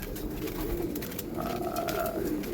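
Soft coos of a dark red Andhra pigeon repeat over a steady background hum, close by, with a low rolling tone recurring through the clip.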